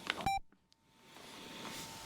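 A Cardo Packtalk Edge motorcycle intercom shutting off gives a short, bright electronic beep and a couple of quick tonal blips, then fades into quiet room hiss.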